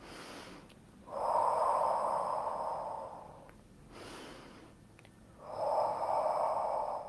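Two long, close breaths drawn in during an exercise session, each lasting a couple of seconds with a quiet pause between them, heard alone without talk.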